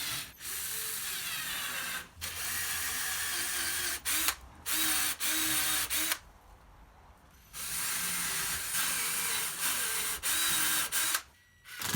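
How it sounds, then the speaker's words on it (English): A power drill drilling pilot holes in wood, whirring in several sustained bursts, stopping briefly between runs, close and fairly loud with no talking. "Drill some pilot holes and fix the front plate to the jaw."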